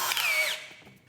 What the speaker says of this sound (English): grab some sandpaper and a sanding disc. I'm bringing in my favorite drill for this job.